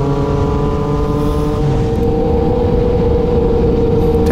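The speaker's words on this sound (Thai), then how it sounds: "รถที่มีแท็กชั่นคอนโทรลก็เวลาเจอทรายเจอน้ำก็เวลาเปิดคันเร่งแรงๆก็จะตัดแบบนี้ฮะ" A Yamaha MT-09 motorcycle holds a steady, loud, droning rev up close while its traction control cuts the throttle, giving a continuous engine hum with a slight stutter and no voices.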